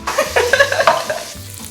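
Prosciutto and red chili flakes sizzle in a hot pan for spaghetti, a brief close crackling fry with a few stirring scrapes.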